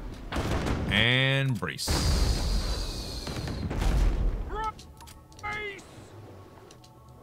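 Mortar fire in the naval video game Abandon Ship, several heavy booming blasts and crashes rolling under loud excited talk, with a couple of sharper later impacts.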